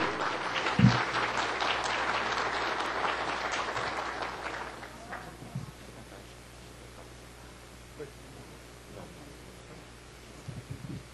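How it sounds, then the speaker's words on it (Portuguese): Audience applause at a public procurement seminar in Brazil's Chamber of Deputies, a dense roomful of clapping for the first four seconds, then fading to a quiet hall with a few scattered claps and small noises. "Chamamos à frente, com os nossos aplausos, o ilustre palestrante"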